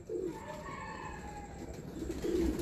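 Pigeons coo close by in a breeder's loft, with a soft, repeated low warbling that rises again toward the end over faint background noise.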